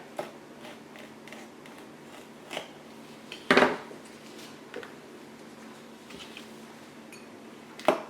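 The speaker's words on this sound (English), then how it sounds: "I'm just using a paring knife right now, but you can use any kind of knife you want" Jalapeño peppers being cut with a paring knife, heard as sparse, close clicks and taps of the blade on the board, with one louder knock midway and a gap between cuts.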